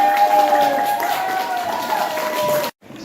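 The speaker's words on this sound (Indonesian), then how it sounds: "Beri tepuk tangan semua." A classroom of students clapping their hands together, a dense, continuous burst of applause mixed with some voices, cutting off abruptly near the end.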